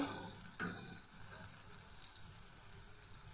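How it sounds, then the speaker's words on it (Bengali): Teasel gourd and pointed gourd slices frying in a pan make a soft, continuous sizzle, with one brief clatter of stirring near the start. "কাকুর ভাজা করছি আর হচ্ছে পটল ভাজা আর আলুর ঝুরি ভাজা"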